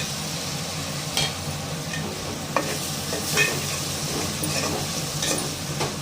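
Tomatoes fry in a pan for prawn and chana dal curry, giving a steady, close sizzle with occasional scraping clicks as they are stirred.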